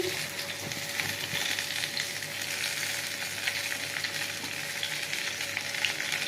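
Bitter gourd, yardlong beans and potato with a green chilli fry in oil in a pan, a steady close crackling sizzle that runs unbroken throughout, with no talking.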